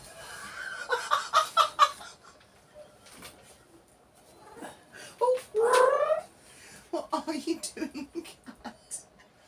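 A cat with its claws caught in a t-shirt gives short vocal sounds in bursts, close by and mixed in with people talking and laughing.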